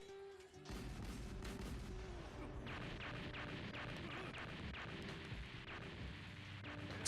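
Explosions in One Piece anime episode 305 boom and crash in quick succession, a faint, dense barrage of blasts and rumbling debris with scattered sharp impacts following a brief quiet start.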